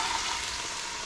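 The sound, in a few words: olive oil and butter sizzling in a pan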